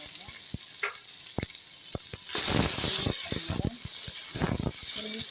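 Chopped onion sizzles and hisses steadily in a hot pan, with sharp clicks and scrapes of stirring that grow louder midway, close and without speech.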